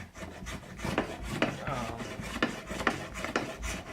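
Close, steady back-and-forth rasping of a tool scrubbing wood off a flame maple guitar neck, an even rhythm of strokes at moderate volume with no talking.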